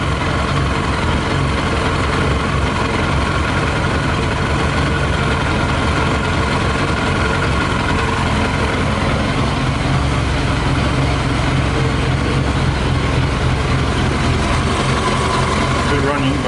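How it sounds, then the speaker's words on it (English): A Yamaha motorbike engine idles with whisky in its fuel tank, a steady close rumble that continues unbroken throughout, with a person talking over it. "Still running, but you can hear it"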